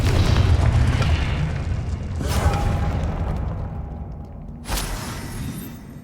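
A Confringo spell explosion in the Hogwarts Legacy video game, heard as a loud, deep boom with a rumbling tail, followed by a second burst near the end. Other spell effects and ambience rumble beneath it.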